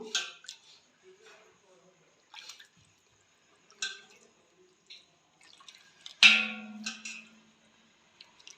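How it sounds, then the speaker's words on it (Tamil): Horse gram rasam being poured out, giving a few soft, scattered liquid splashes and drips with a louder splash near the end, separated by quiet pauses. "ரசம் ஊற்றிக்கலாம். கொள்ளு ரசம்."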